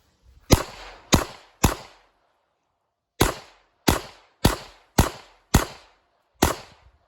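Nine sharp gunshots at a shooting range, fired singly in two bursts with a pause between, each a loud crack with a short decaying tail and no talk over them.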